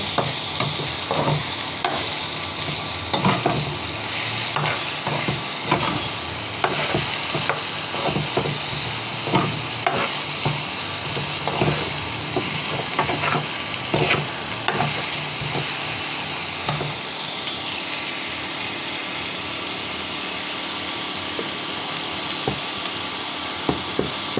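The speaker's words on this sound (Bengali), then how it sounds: "হলুদ দিয়ে দিচ্ছি মিষ্টি কুমড়া সহ ডালটা সহ আবার ভেজে নিব" Pumpkin and mung dal with turmeric being stir-fried in a pan, a steady sizzle broken by frequent scraping clicks of a spatula stirring, close and continuous with no talk.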